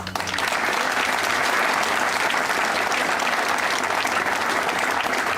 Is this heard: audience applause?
yes